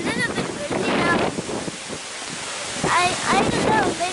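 Gusty wind in Benidorm buffets the microphone with a steady low rumble, while a person talks over it in bursts.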